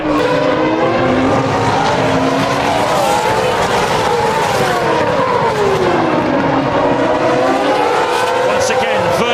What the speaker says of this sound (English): on that last lap Hamilton took a 10th out of Massa. He's the fastest man on the racetrack at the moment, Lewis Hamilton.